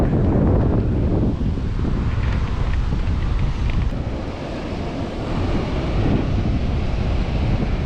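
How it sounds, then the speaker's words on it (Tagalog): Strong wind roars and buffets the microphone continuously on a white-sand beach in Aurora Province, with faint surf in the background and no voices. "grabe ang lakas ng hangin"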